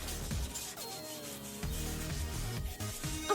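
A brush scrubs a vintage Coach Willis leather bag in short, close, rasping strokes with brief pauses between them and no talk.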